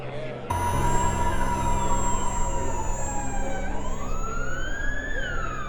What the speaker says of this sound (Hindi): उसी वक्त एक एम्बुलेंस के आने की आवाज आई।